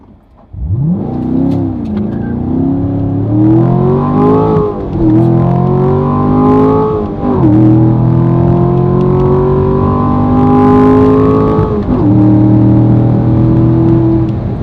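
A Ford Mustang GT accelerates from 0 to 60 on run-flat tires, its loud engine revving up through several gears with clear rising pitch sweeps and shift breaks, heard from inside the car.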